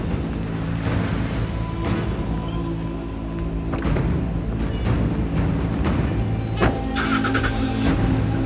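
A car engine runs steadily throughout with a few thumps, like doors shutting, before it pulls away; the sound is fairly loud and close, with no talking.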